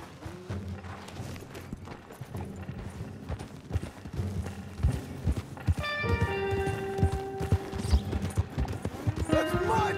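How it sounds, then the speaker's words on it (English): Horse hooves clip-clop in the video game Red Dead Redemption 2, a run of irregular thuds under a voice, with mechanical creaks and a tonal swell building toward the end. "Take that horse if you need it. Go easy on him."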